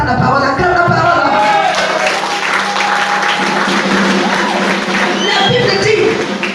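A congregation applauds loudly and continuously in a church service, dense clapping mixed with scattered cheers and whoops, while a voice speaks over the crowd.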